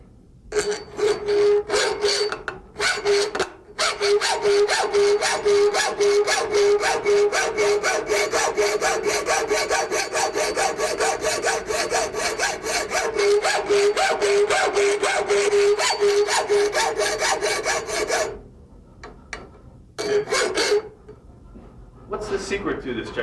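Rapid, rhythmic rasping of 30-lines-per-inch checkering files cutting lines into a gun, loud and close, continuing in steady strokes with brief pauses and a tapering run near the end.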